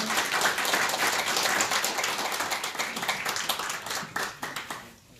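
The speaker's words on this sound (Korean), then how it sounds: "그럼 박수로 환영해 주시면 감사하겠습니다." Audience applause welcoming a speaker at a political symposium panel discussion, a dense steady wash of many clapping hands that thins into scattered claps and fades out near the end.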